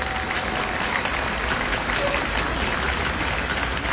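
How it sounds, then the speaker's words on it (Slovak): A crowd at a march for democracy in Malacky, Slovakia, claps for an ambulance crew, producing dense, sustained applause that holds steady and loud throughout. "Prosím, poďakujme svojim potleskom posádke rýchlej zdravotnej pomoci"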